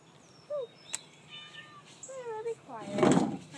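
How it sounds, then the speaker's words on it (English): Cat meowing indoors, a few short faint mews in the background before a louder, drawn-out meow near the end, with a person's voice nearby. "My cat's meowing."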